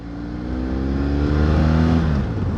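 A BMW F 700 GS motorcycle engine revs up close, its deep rumble climbing steadily in pitch and loudness, then easing slightly at the end.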